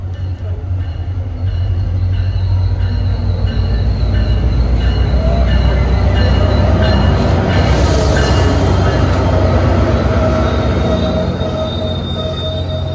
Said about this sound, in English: Here's train P316 with CFRC number 105 making a commanding presence.